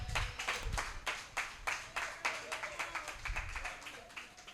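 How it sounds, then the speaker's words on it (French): Audience clapping at the grand finale and certificate ceremony of a voice coaching course, a loose, uneven patter of hands with some stronger claps standing out, moderately distant and fairly quiet. "Veuillez l'applaudir s'il vous plaît encore ce soir."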